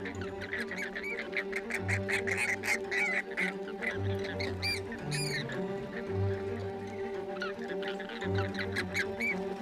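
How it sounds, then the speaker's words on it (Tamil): Male birds fight in the wild, the group ganging up on one rival, with repeated loud honks and harsh squawks overlapping in bursts over a steady low background. "இங்க ஒரு ஆண் பறவைய மற்ற ஆண் பறவைகள்லாம் சேர்ந்து தாக்குது."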